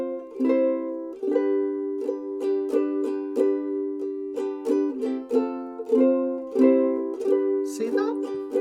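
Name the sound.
ukulele playing a riff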